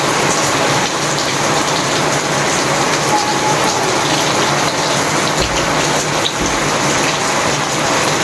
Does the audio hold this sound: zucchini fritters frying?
no